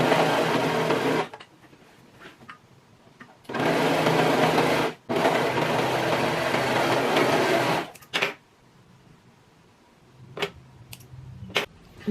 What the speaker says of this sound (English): I'm going to go over it with my serger and my knife engaged to get rid of all this excess messy thread